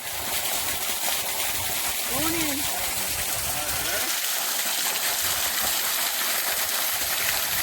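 A man-made tap fed by an underground artesian spring in Missouri pours a steady, loud gush of water with splashing. A person speaks briefly over the rushing flow.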